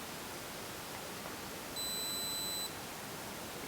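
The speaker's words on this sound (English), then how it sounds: "Push it. Oh, push and hold. It's beeping." A Polaroid CUBE helmet camera emits a single steady electronic beep lasting about a second against a hiss of background noise.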